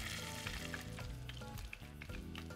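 Beef rib taquitos frying seam side down in shallow oil in a pan, a steady sizzle with crackling pops, continuous and close, partly overlaid by background music.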